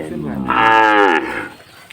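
A single loud, drawn-out moo from Sahiwal cattle rises and fades over about a second, close by, with no talking.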